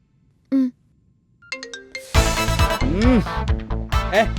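A phone rings with an incoming call in a Telugu movie scene, first with a short tone and then with a loud, melodic ringtone whose bright tones rise and fall continuously.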